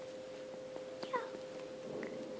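A small child imitates a cat with one short, faint meow partway through, heard over a quiet steady indoor hum.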